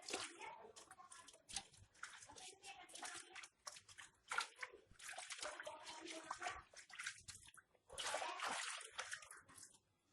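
Vegetables being dipped and swished in a basin of soapy water, with irregular splashes, sloshing and dripping that come close and fairly loud throughout.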